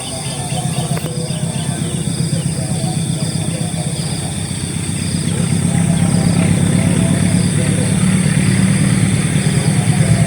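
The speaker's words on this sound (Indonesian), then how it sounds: "Tuh ada kereta api lewat." A train passes along railway tracks near Bantul in Yogyakarta, heard as a low mechanical rumble that grows louder and fuller about halfway through, with faint outdoor background sounds.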